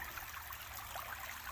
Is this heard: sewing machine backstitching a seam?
no